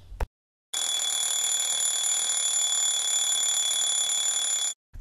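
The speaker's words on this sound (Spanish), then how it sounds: "Por las mañanas siempre me despierto con el sonido del despertador." An alarm clock rings in one continuous, loud, shrill burst lasting about four seconds after a brief pause, then cuts off abruptly.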